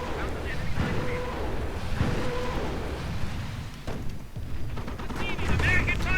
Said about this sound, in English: there we go, the first barrage of the Nebelwerfer